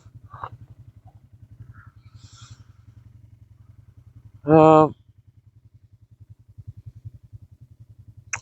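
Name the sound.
ATV engine on a bumpy ride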